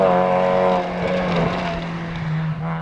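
A Peugeot 206 rally car on a forest stage, its engine revving loudly and close with a strong harmonic whine that shifts pitch as it changes gear and drives away.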